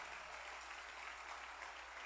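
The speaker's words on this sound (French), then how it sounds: "Si tu veux acclamer, tu peux acclamer." A church congregation applauding and cheering, a steady, distant wash of clapping that stays faint and even throughout.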